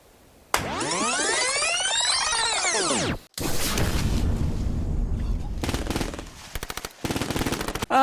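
A loud whooping siren-like sweep gives way to sustained bursts of automatic gunfire and scattered shots, with brief pauses between volleys.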